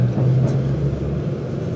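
A Voyager train rumbles steadily with a deep, continuous low drone, close and moderately loud, with no break or change over the short stretch.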